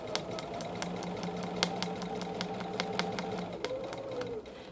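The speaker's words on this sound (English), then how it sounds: "I'm going to sew along my outer circle" A Bernina sewing machine stitching quilting lines along a round ruler, steady rapid needle clatter over a low motor hum, close and continuous, slowing and stopping near the end.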